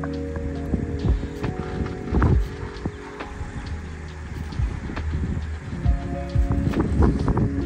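A 2022 Maruti Brezza with a damaged gearbox, reverse gear failing to engage, with the AC off; a steady low engine hum with tonal drone runs throughout, broken by intermittent dull clunks and knocks.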